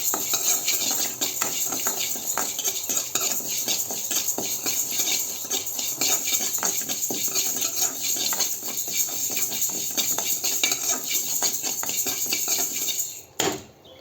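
About three spoonfuls of moong dal dry-roasting in a pan while being stirred, a spoon scraping and clinking steadily against the metal with a faint sizzle underneath, close and continuous for over ten seconds with no talk.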